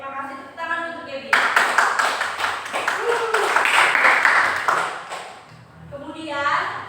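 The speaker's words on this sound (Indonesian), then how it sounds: "Tepuk tangan untuk Debbie." A classroom of students applauds for a classmate named Debbie, a burst of clapping lasting several seconds, with a teacher's voice speaking before and after.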